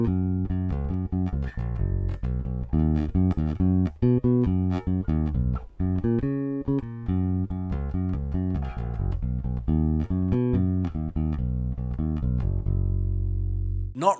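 A bass guitar plays a steady stream of low, plucked broken-chord notes, close and solo, moving through repeating patterns without pause.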